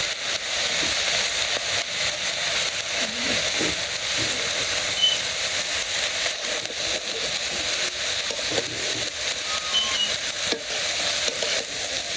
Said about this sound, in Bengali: তো পাতাকপি আমি ভালো করে কষিয়ে নিই।